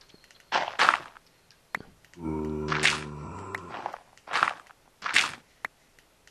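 Minecraft mob footsteps on dirt in a video game: a few soft, crunchy steps spaced irregularly, with a low droning buzz in the middle and no talking.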